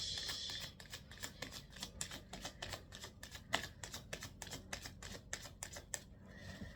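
Tarot cards are shuffled quietly and close by. A quick run of rhythmic riffling clicks repeats over several seconds.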